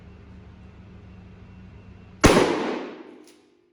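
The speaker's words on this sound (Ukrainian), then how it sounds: "Стріляти будемо з відстані 20 метрів дроб'ю." A single loud shotgun blast firing birdshot from 20 metres cracks out after a quiet stretch of low background hum, its echo decaying over about a second.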